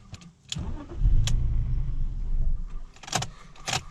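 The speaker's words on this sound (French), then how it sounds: "Voilà, ça démarre, ça démarre direct, mais ça recale aussitôt" BMW 530i with a starting fault cranks, catches briefly with a short low engine rumble, then cuts out within about two seconds, followed by a few sharp clicks and rattles close by.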